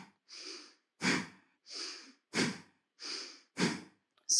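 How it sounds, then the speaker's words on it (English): Forceful nasal exhalations during a yoga breathing exercise alternate with softer passive inhalations, a regular close rhythm of about seven strong puffs, with no talking. "The exhalation is forceful and the inhalation is passive."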